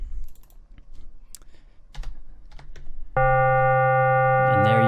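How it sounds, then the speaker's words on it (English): A sustained FM synthesizer tone with a steady stack of harmonic overtones from the modulator comes in sharply and holds, loud and close, after a stretch of quiet clicking and tapping. "you can still hear a bit of the original signal. It's just added with those overtones now from the modulator."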